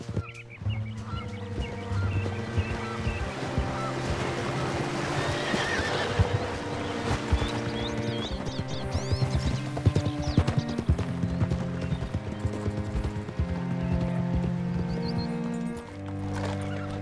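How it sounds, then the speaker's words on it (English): Horses in Red Dead Redemption 2 gallop with rapid steady hoofbeats and an occasional whinny, over sustained orchestral game music and faint birds, continuous and full for the whole stretch. "Hitch your horse up here."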